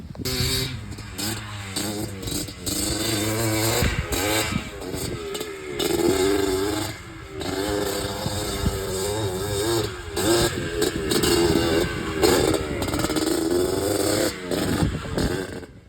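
A Yamaha Blaster ATV engine runs steadily after a carburetor cleaning and a new air filter, its buzzy idle rising and falling in repeated revs, close and continuous.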